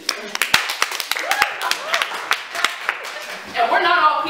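Audience at a slam poetry performance clapping in scattered, uneven bursts, distinct sharp claps rather than full applause, with voices and a short laugh rising near the end.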